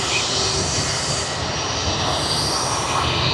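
Jetstar airliner at Sydney Airport taxiing toward runway 16L, a steady, loud broadband jet engine roar holding even and close throughout with no voices.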